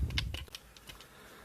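Buttons on a Retron77 joystick click in a quick run of four or five light, sharp taps, close and fairly faint, fading into quiet.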